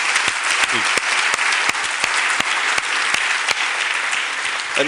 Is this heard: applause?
yes